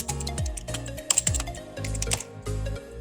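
Rapid typing on a computer keyboard, dense quick key clicks and taps in an uneven rhythm, close and fairly quiet, with no talking.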